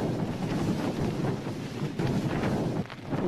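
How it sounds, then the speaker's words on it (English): Strong gusts of roughly 40 miles an hour roar across an exposed glacier campsite, a loud continuous buffeting rush with surges and dips that batters the microphone. "We think the gusts have been about probably 40 miles an hour"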